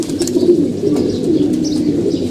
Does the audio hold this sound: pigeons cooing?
yes